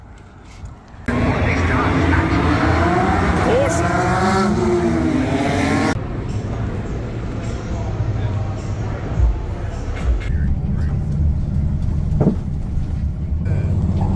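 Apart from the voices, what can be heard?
race cars passing at the Bathurst 1000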